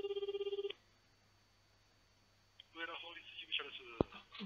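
A phone call to a lawyer's office rings with a short burst of rapid electronic ring pulses. Then silence follows until a person answers and talks.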